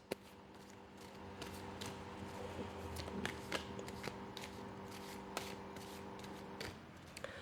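Tarot cards are shuffled steadily with soft riffling and crisp snaps, close by and quiet, with no talking.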